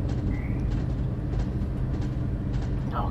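A BR Class 215 train running in the Train Sim World 2 game on the Northern Trans-Pennine route, heard as a steady, loud low rumble of engine and wheels with faint rhythmic clicks, with no talking.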